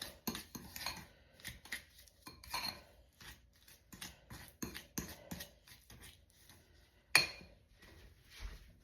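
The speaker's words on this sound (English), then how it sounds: "there's your butter all mixed up" Butter is mushed and mixed in a bowl with a utensil, giving close, irregular clinks and scrapes of metal against the dish, with a sharper knock near the end.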